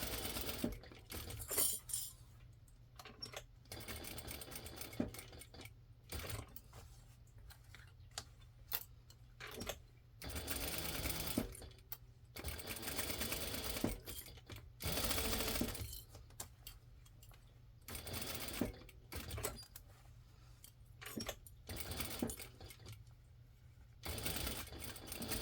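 A sewing machine top stitching along a seam of a fabric Christmas stocking, running in short, uneven bursts with frequent stops and quiet handling noises between them, close but fairly soft.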